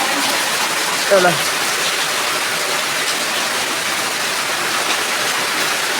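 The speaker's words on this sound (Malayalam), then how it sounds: "നല്ല മഴ ഉണ്ട് പുറത്ത്" Steady, dense rain hissing close by, continuous and fairly loud, with a brief voice-like sound early on.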